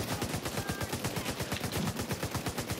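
Rapid automatic gunfire from the video game The Division 2, a steady dense rattle of shots with no pauses, loud and close.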